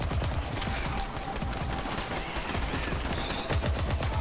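Smart-bullet gunfire in Borderlands 3, a loud unbroken stream of rapid shots firing close and steady throughout.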